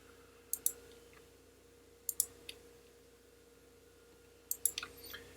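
Computer mouse clicks while coloring comic book pages, sharp double clicks in three small bursts spaced a couple of seconds apart over a quiet room hum.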